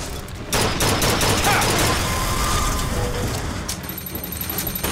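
Turret gunfire in Bioshock Infinite rattles out in loud, rapid bursts that run almost continuously, with mechanical clatter mixed in and a brief lull near the end.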